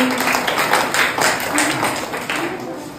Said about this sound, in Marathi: वाजवा पुन्हा एकदा टाळी